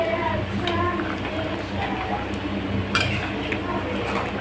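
Chicken korma made with milk is stirred and fried in a metal pan, with a spoon scraping and clinking against the pan over a steady low background and faint voices.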